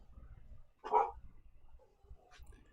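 A neighbor's dogs bark across the backyard, one brief muffled bark standing out at a moderate distance against quiet background hum.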